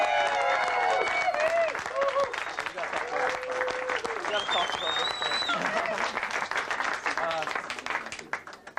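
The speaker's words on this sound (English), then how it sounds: "Let's give him a big hand." Studio audience on a 1994 Tom Green Show episode breaking into loud applause and cheering, sustained clapping with whoops, and a voice speaking over it.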